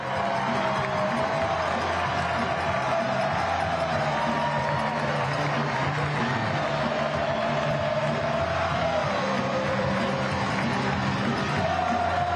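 A stadium crowd roars and cheers after Cameron Dunbar scores from right in front of goal in a USL Championship soccer match. The noise is dense and sustained throughout, with no clear breaks.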